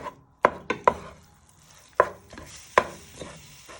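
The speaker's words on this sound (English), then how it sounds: "Move it about with your wooden spoon" A wooden spoon stirs and knocks frying food around a pan, giving several sharp, close clacks and scrapes at irregular intervals over a quiet kitchen background, with no talking.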